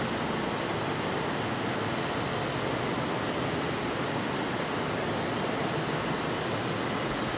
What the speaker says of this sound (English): stop this fucking royalty free like waterfall sound effect that's like constantly looping